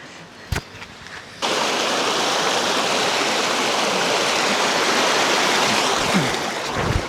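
A mountain stream rushes over rocks in a loud, continuous wash of water, starting after a short quieter stretch with a few knocks and a brief splash; the flow stays close and steady throughout.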